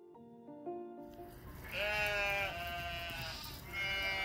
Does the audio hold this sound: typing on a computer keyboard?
no